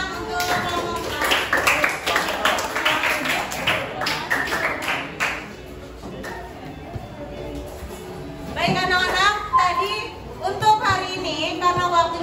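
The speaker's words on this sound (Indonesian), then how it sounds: "Berikan tepuk tangan untuk kelompok 4." A class of students claps for a student group in a classroom lesson, a burst of scattered hand claps lasting a few seconds, then a second short round later, mixed with children's voices and the teacher talking.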